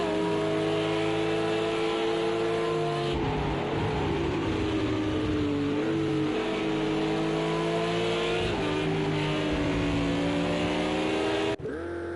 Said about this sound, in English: Listen to this Ferrari. He's tearing away.